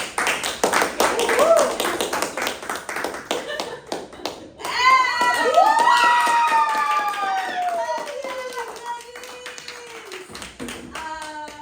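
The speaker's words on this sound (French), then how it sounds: "Applaudissements pour Glenys" A class claps for a student after a demonstration in a French language lesson, quick patters of hand claps mixed with children's voices and an adult talking over them, with a rising then falling sung or spoken tone partway through.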